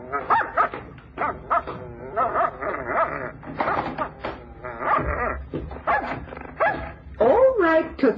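A dog barks and yips repeatedly in an old-time radio drama, its short sharp barks mixed in among actors' voices talking throughout the scene.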